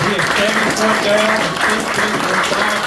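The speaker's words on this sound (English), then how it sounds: "give a real big round of applause" Banquet audience at a motorsports hall of fame event claps loudly and steadily while a voice speaks over the applause.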